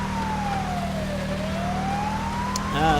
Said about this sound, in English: They seem to be a bit slow to hear the siren on here.